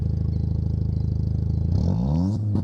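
A Jeep engine idles with a steady throb, then revs hard and climbs right up to the rev limiter before dropping back, loud and close, with no talk over it.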